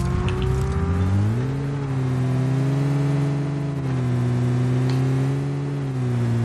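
A McLaren car driven in the mobile shooter PUBG Mobile hums with a smooth engine tone that rises as it accelerates, dips, then climbs again, loud and close with no speech over it.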